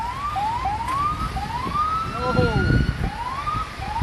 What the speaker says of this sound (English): Police and ambulances arrived accompanied by wailing sirens